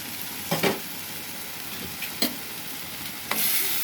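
Stuffed eggplant curry frying in oil in a pan, a steady low sizzle broken by three distinct scraping stirs of a spoon, close and moderately quiet.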